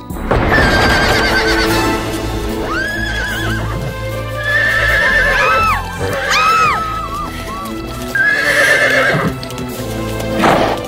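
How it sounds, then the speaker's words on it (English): A horse whinnies loudly several times while hooves clip-clop steadily beneath, the neighs rising and falling in long shrill waves over a dense, dramatic background. "What is this strange beast? I think it's called a horse."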